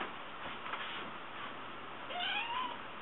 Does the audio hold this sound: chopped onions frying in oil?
no